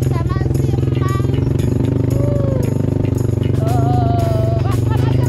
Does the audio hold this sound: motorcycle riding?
yes